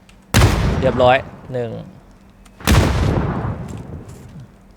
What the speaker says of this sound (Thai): ผมโยนระเบิดไปละอ่าผมก็โยนไปละ